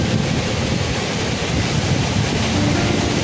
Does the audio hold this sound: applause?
no